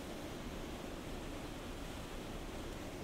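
Steady broadband rush of a waterfall recorded outdoors, a constant, full roar with no breaks, close and loud, alone without any voices.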